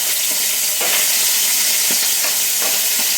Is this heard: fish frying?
yes